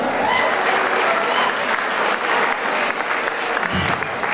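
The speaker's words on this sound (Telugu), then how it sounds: "రైట్ ఒకసారి గట్టిగా క్లాప్స్ అందరూ కూడా." An auditorium audience at a traffic awareness meeting claps loudly and steadily, a dense burst of applause that carries through without a break.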